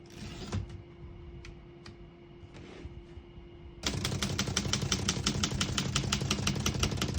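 A 1940 Underwood Champion portable typewriter clacks nearby, first with a few scattered key strikes and a clunk, then a fast, steady run of crisp metallic typing that fills the rest of the clip.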